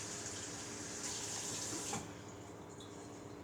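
Water runs from a tap in a soft, steady hiss that cuts off partway through, leaving quieter room tone.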